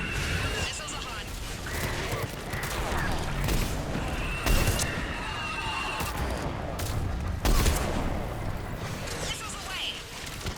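Missiles launch in Mass Effect Legendary Edition, two sharp booming bursts standing out from a dense, continuous wash of battle noise, with voices speaking in the mix.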